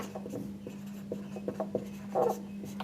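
A pen writing on paper while working through an algebra problem, faint scratchy strokes and small taps in an irregular rhythm over a steady low electrical hum, close and quiet without talking.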